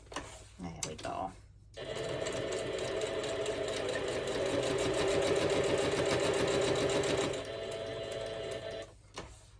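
A sewing machine stitches a fabric bookmark, a steady fast mechanical whir running for several seconds after a brief stop and start, with speech occasionally over it.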